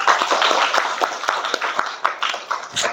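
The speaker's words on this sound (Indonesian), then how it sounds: "Beri tepuk tangan semuanya." A classroom of students claps during a lesson on computer systems, a dense run of hand claps filling the whole stretch at steady loudness with no talking.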